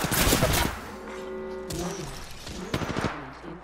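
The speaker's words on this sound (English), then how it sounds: "I am taking fire." Apex Legends gunfire: a dense burst of game shots at the start, then scattered sharper cracks under a layered game soundscape of tones and effects, moderately loud.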